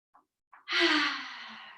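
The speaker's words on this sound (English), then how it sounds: "Take a deep inhale." A slow, deep breath drawn in through the mouth during a yoga flow, preceded by two faint short sniffs, then a long airy inhale that swells and gradually fades.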